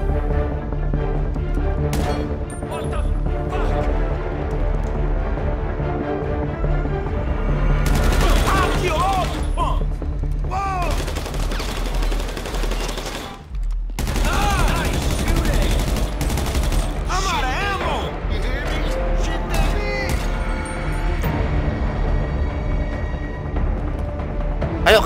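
Gunfire in a GTA 5 zombie survival game, bursts of shots over dense game noise and music, with a busy, loud mix throughout and a brief dip midway.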